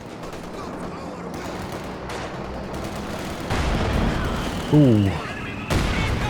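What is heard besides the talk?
heavy mortar shot in the video game Company of Heroes 2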